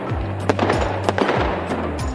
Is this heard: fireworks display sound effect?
yes